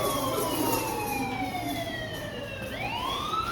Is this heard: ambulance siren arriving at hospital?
yes